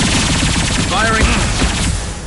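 Rapid gunfire from Mass Effect 2 on its hardest Insanity difficulty, loud and continuous through the short span, with a brief voice call layered over the dense shooting.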